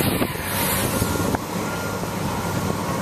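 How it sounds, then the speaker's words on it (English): A track hoe and dump truck work at a construction site: steady heavy engine rumble and mechanical clatter, with a sharp knock partway through. The machinery is fairly loud and continuous, and there is no speech. "That's what the men in the track hoe and dump truck are working on right now."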